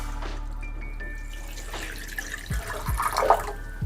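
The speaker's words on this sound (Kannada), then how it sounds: "ಪಾತ್ರೆ ಇಟ್ಕೊಂಡು ಒಂದು ಚರಿ ನೀರು ಹಾಕ್ತೀನಿ ರೀ" Water is poured into a pot set on a gas burner in a home kitchen. The soft, close trickling and splashing grows over a low steady hum, swelling toward the end.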